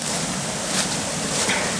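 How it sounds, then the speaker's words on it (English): A small backyard creek waterfall spilling in summer gives a steady broadband rush of falling water, continuous and fairly close, with no voices. "So there's the waterfall I was talking about."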